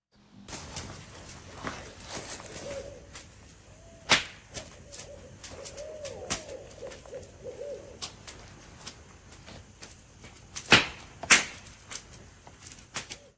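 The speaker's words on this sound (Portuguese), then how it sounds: "o que você acabou de ouvir eram claramente corujas barradas" Barred owls hoot and call in a wavering series at night, with sharp cracking snaps and pops scattered throughout, some loud and close.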